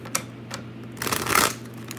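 Tarot cards being shuffled by hand: a few soft riffling flutters, with a louder, fuller shuffle burst in the middle, close and brief.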